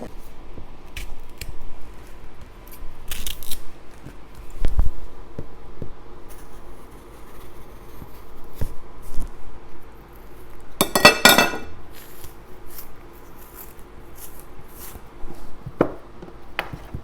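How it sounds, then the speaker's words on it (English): Knife peeling and cutting plantain for kelewele, quiet sporadic scraping and clicks against a board, with a short burst of crinkling rustle midway and occasional light clinks, close and soft throughout. "So now I'm going to start peeling this plantain."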